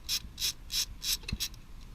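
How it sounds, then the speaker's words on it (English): A hand ratchet loosens the exhaust bolts on a Genuine Buddy 170 scooter, making about five quick, close bursts of clicking at an even rhythm. "Loosen these 2 bolts right here."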